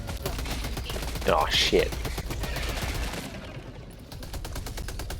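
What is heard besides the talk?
SMG gunfire in the video game Helldivers 2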